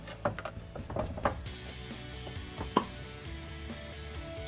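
A thin fillet knife cuts through food on a board in a few sharp, close knocks and taps, with a faint steady hum underneath.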